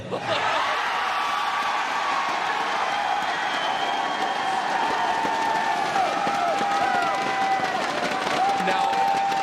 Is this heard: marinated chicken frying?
no